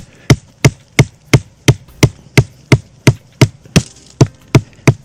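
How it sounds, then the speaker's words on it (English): Fifteen sharp, evenly spaced hammer strikes, about three per second, close and loud, each a solid thud on a stake with no talking. "let's just go ahead and hammer this stake in nice and tight"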